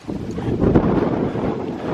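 Strong wind gusts across an open meadow path, buffeting the microphone with a loud, steady rumbling roar that rises and falls without pause.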